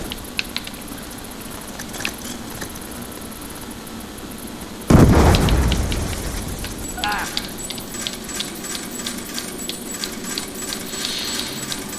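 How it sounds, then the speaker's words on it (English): A grenade blows up in the zombies mode of Call of Duty Black Ops 2, one loud booming blast about midway that rumbles and fades over a second or two, set in busy game noise with a player talking. "Grenade."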